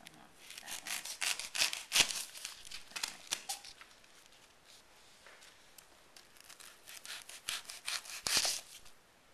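Quiet rasping strokes of a blade cutting and shaping scrap material during conservation repair of a cultural object, uneven scraping bursts close by, fading midway and returning, with no talk.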